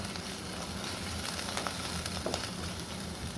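Spices with turmeric sizzle quietly in a patched clay pot over a fire, a soft continuous frying hiss with faint stirring, fairly low in level and free of speech.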